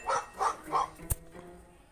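Puppy in a video game barks three quick times in a row, bright and fairly close, followed by a single short click, with no talk over it.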